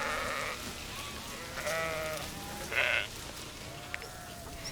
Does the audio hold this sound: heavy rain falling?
no